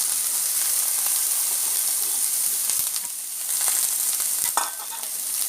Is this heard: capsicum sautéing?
yes